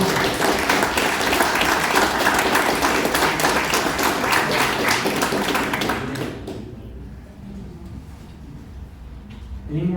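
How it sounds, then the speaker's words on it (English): Applause from an audience at a political campaign event, a dense wash of many clapping hands that runs loud for about six seconds, then cuts off and gives way to a quieter room with faint stray claps. "let's give a round of applause for Mark."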